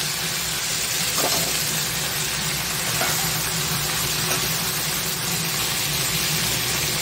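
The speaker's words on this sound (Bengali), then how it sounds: "এই যে এখন সবজিটা, এটা আমি এর মধ্যে ছেড়ে দিচ্ছি" Vegetables frying in a pan with a tempering of garlic and black cumin, a steady broadband sizzle running evenly throughout at moderate loudness with a few faint clicks, no talking.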